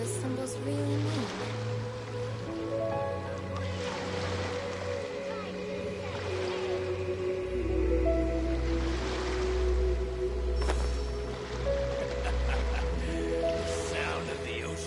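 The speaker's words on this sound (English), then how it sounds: "Sound of the ocean waves." Ocean waves wash and surge in Genshin Impact, a steady roar with periodic swells and a low hum underneath, continuous throughout.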